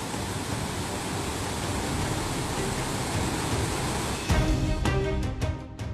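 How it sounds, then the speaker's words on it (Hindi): Heavy rain and the swollen Ghaggar river in flood at Panchkula make a loud, constant broadband roar of rushing water, with a sharper burst of splashing and clattering near the end. "पंचकुला में झमाझम बारिश हो रही है और घग्गर नदी में पानी का स्तर बढ़"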